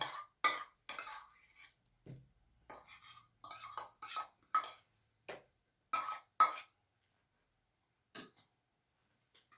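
Chicken thighs for the grill are stirred in a bowl before cooking over a wood fire, giving a series of scattered clinks and scrapes of utensil on dish that come at an irregular rhythm and fall quiet toward the end.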